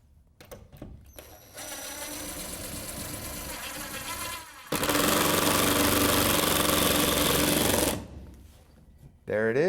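A power screwdriver drives a screw into drywall, close and whining, in two sustained bursts with the second louder and harsher, bracketed by brief handling clicks.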